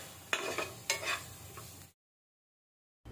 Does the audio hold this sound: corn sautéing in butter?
yes